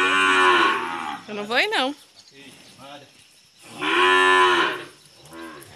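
Cows low loudly inside a farm corral, two long drawn-out moos with a rising call between them, close by, while a person speaks briefly in Portuguese.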